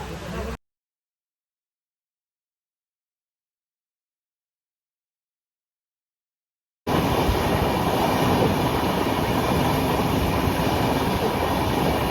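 The Bangalore–Howrah Duronto Express produces a loud, steady rumble and rattle that begins abruptly after a long stretch of silence and continues unbroken to the end.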